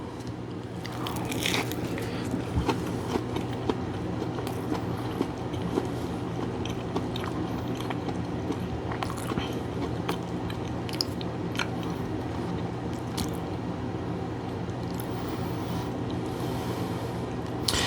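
Homemade coxinha being bitten and chewed up close, with repeated soft crunches and moist chewing sounds that continue steadily and alone, without talk.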